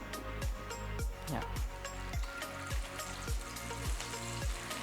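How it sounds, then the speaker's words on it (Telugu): Spicy potato sticks frying in hot oil, a steady loud sizzle broken by a regular series of scraping, clattering strokes as the batch is moved in the pan. "చక్కగా ఇలా వేగనివ్వండి"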